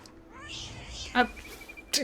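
A cat meows in the video game What Remains of Edith Finch, a few short, fairly close cries amid quiet game ambience, with a person talking briefly.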